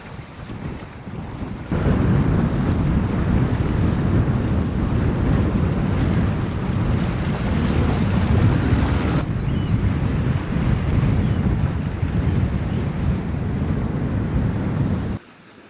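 Gale force wind and waves around a sailboat on a night passage toward Alaska, a loud steady roar of gusting wind and rushing water buffeting the microphone, building after a quieter start and cutting off at the end.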